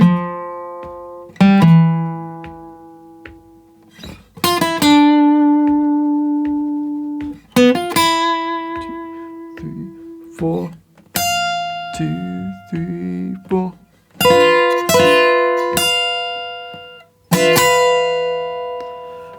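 Lead guitar plays a slow melodic line from a piece from the game Ghost of Yōtei: single plucked notes and bends ring out one after another, clear and close, with no accompaniment.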